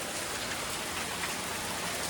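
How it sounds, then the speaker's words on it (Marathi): Heavy rain pouring down steadily on a farm at Sheldi near Khed, a dense, even hiss with no pauses and no voices. "खूप जोरात खूप जोरात पाऊस आलेला आहे"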